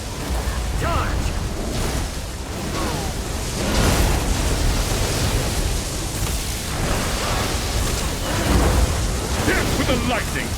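A lightning strike in the video game The Elder Scrolls Online sets off loud, rolling thunder with a rain-like roar that swells in bursts over about ten seconds, close and dense.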